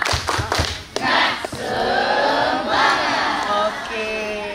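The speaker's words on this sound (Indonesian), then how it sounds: "kita sama-sama tepuk semangat" An audience at a school family gathering claps together in a rhythmic spirit clap, a few sharp claps followed by loud crowd shouting and cheering with voices over it.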